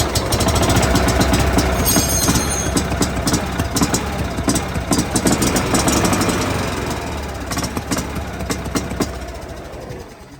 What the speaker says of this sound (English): I'm gonna crank it up. You can hear the muffler.